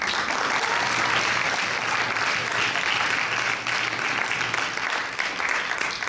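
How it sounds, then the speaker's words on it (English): An audience at a university debate grand final claps for both competing teams, a loud continuous wash of applause that stays steady for several seconds with only slight swells. "round of applause to both teams that have made it thus far."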